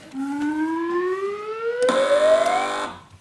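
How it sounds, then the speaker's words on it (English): A quiz-show contestant buzzer on a panel news quiz gives a single electronic tone that glides steadily upward for about three seconds, loud and clear with nothing else over it. "fingers on the buzzers, please, teams"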